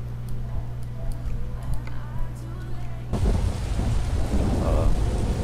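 Thunder and rain from a rain mod in Euro Truck Simulator 2: light ticking drops at first, then a sudden loud rumble of thunder joins steady heavy rainfall close by.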